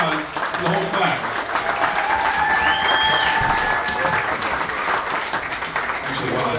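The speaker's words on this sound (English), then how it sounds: "Give one more round of applause to the whole class." Loud, sustained applause from an audience for a school music class after a rock song performance, dense and continuous clapping with cheering throughout, and a faint whistle-like tone rising briefly in the middle.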